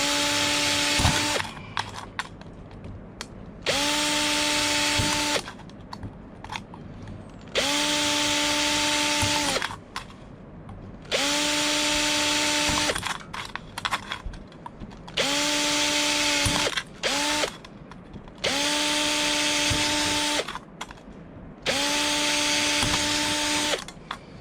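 A power drill runs in repeated bursts of a few seconds each, about seven in all, its motor whine rising and biting, separated by short pauses.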